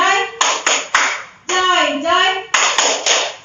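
Schoolchildren in a classroom clap in a steady group rhythm, sharp bursts of claps alternating with kids chanting "sukacita" together, loud and close.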